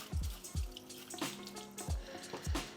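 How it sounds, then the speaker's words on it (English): Vegetables are washed and scrubbed under running water in a kitchen, with a steady soft splash of water and a few short scrubbing rubs at intervals, no talk. "So just give these a good wash with a clean scour or a scrub."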